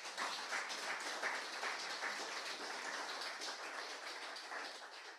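A church congregation applauds Jesus during a Spanish-language service, a steady wash of many hands clapping at moderate distance and fairly low level for several seconds.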